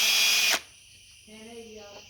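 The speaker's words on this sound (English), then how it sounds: "going to run the pump with the puck drill thingy" A handheld drill spins at high speed to drive a pump for bleeding the brakes on a Buick Grand National, a loud whine for about half a second that stops abruptly, then quieter sounds follow.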